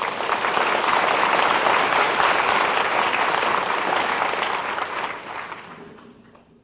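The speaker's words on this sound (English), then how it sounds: "Give them a round of applause." An audience at a keynote meeting applauds steadily, a dense, loud wash of clapping that holds for several seconds and then thins out and fades toward the end.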